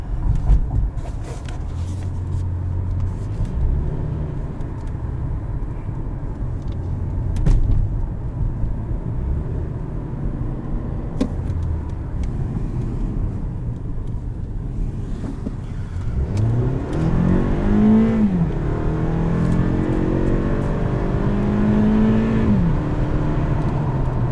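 A 2018 Toyota Camry LE engine rumbles at low pitch, then revs up with rising, throaty sweeps as it accelerates, loud and close, with no voices.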